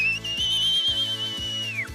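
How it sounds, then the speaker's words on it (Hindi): A long, shrill whistle is blown near a snowy mountain valley to alert people of a snow avalanche, one sustained high blast lasting nearly two seconds over a rumbling, rhythmic background. "स्थानीय लोगों ने सीटी बजाकर लोगों को अलर्ट किया।"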